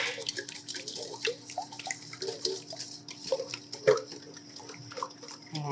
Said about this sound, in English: I have cracked open 10 eggs and I'm going to whisk them until they're all broken up